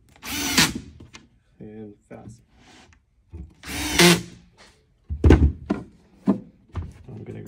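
A power drill drives black backing screws into an RTA wall cabinet joint in several short, loud whirring bursts, separated by quiet handling and brief speech.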